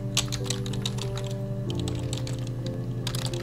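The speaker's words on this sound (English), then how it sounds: "of course, typing." Rapid, steady clicking of keys on a computer keyboard, close up, with a continuous hum underneath and short pauses between bursts of keystrokes.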